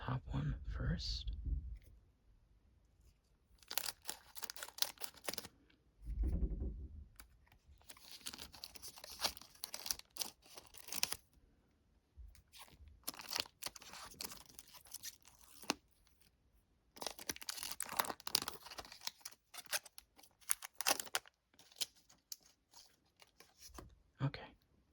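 A Pokémon TCG Obsidian Flames booster pack being opened up close, with crisp foil tearing, crinkling and card clicks in quiet bursts between stretches of soft talking.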